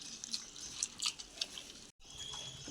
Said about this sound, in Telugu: టమాటాలు ఇలా చేతితో మెదుపుకోవాలండి